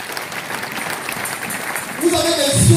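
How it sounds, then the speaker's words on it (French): Congregation at a church service on Christian marriage breaks into applause and cheering near the end, building loudly over a steady background of voices. "Est-ce qu'on peut acclamer le Seigneur?"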